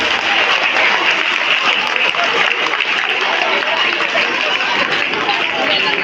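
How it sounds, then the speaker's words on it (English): A school audience at an Independence Day event claps for a house team, a dense, continuous wash of applause mixed with crowd chatter and babble throughout. "Clap for your house."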